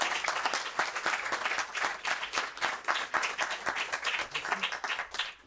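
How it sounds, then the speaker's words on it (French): Audience applause at a Cheikh Anta Diop Day 2019 gathering greeting a speaker, a dense, steady wash of many hands clapping close by, carrying on without pause and with no voices over it. "Donc je vous demande un tonnerre d'applaudissements"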